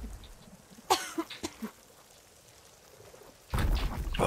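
Aloy coughing in the Horizon Forbidden West game, a cluster of short, harsh coughs near the start, then a quieter stretch and a louder burst of noise at the end.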